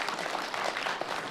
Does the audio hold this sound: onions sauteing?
no